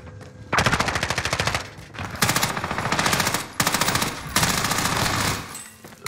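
Rapid bursts of Mac-10 submachine gun fire in Call of Duty on Rebirth Island, loud and close, coming in several long sprays separated by short pauses with no voices over them.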